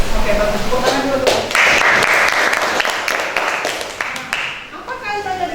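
A school class clapping hands together, a short burst of applause with children's voices and chatter mixed in, fairly close and loud before fading.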